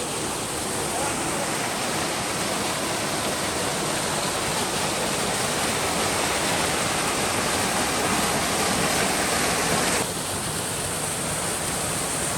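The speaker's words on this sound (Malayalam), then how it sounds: "ഒരു ചെറിയൊരു വെള്ളച്ചാട്ടം" Water rushes and splashes in a constant, full roar at Keralamkundu Waterfalls in Kerala, a small waterfall heard from nearby.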